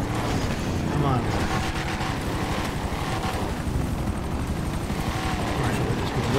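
Helicopter rotor and engine drone in GTA 5 Online, a steady loud whir throughout with game noise mixed in.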